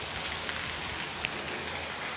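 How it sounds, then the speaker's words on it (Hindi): Steady rain falls in a neighbourhood, a dense even hiss with a few louder drops hitting a nearby surface, no talking. "गाइज मैं पूरी भीग गई हूँ बारिश में"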